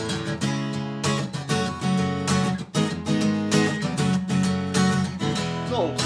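Guitar strums a chord progression in E built on minor substitute chords, a run of full ringing chords at steady moderate volume with no talking.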